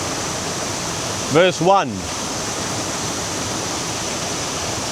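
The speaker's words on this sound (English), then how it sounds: "There's a waterfall on that side and the waterfall next to me" A waterfall cascades with a loud, continuous roar of white-noise rushing water, and someone briefly speaks over it partway through.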